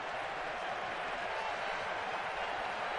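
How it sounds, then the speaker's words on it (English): A baseball crowd at an ALCS playoff game between the Yankees and Rangers, a steady distant wash of applause and crowd noise, fairly faint, with a commentator's voice faintly beneath. "crescendo of applause here"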